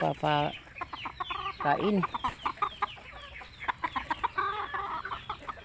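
Chickens cluck and squawk close by in a quick, busy series, with a few louder calls standing out over a noisy farmyard background.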